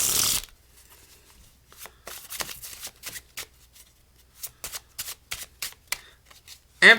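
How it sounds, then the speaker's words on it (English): A deck of playing cards is shuffled in a series of crisp, rapid riffles and snaps, close and fairly loud in an otherwise quiet room, with a brief louder burst at the very end. "I can hand the deck over to the spectator, and they can give it a shuffle."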